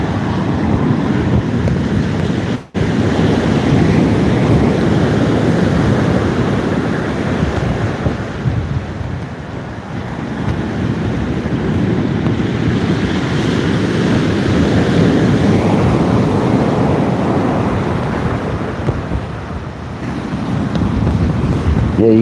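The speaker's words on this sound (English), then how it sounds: "And the wind ain't getting any lighter." Strong wind roars across the microphone while out at sea on a kayak, a loud continuous buffeting rush mixed with wave wash, with a brief dropout and gusts rising and easing.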